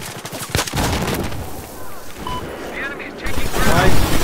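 Gunfire and booming blasts from the video game Battlefield 4, loud and dense, with rapid shots and heavy bursts that swell toward the end.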